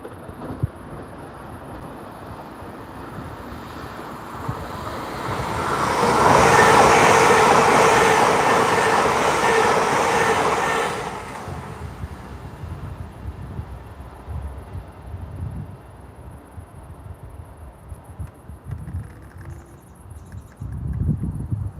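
A train rumbles past at a distance, swelling into a broad roar for several seconds before fading back to a quiet outdoor hum with faint insects.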